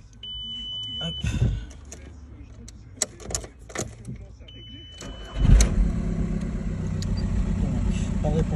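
Ford Galaxy 1.9 TDI diesel engine cranks and catches with a loud burst around the middle, then settles into a steady, close idle rumble, with short alert beeps and clicks earlier.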